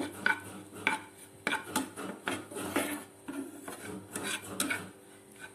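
A utensil stirs chilli powder into a mushroom mixture in a pan, with repeated scraping and clinking strokes in an uneven rhythm, close and moderately loud over a low background hum.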